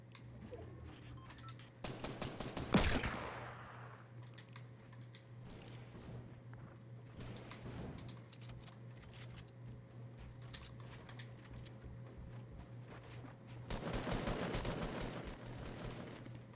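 Gunfire in Fortnite during a duo match: a sharp loud burst early on, then scattered quieter shots and another cluster of rapid fire near the end, over low background game ambience.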